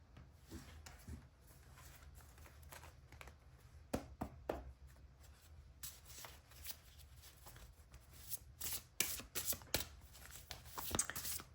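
Tarot cards are shuffled by hand in quick riffling bursts and soft slaps, close and fairly quiet, with the rhythm picking up toward the end and no talking.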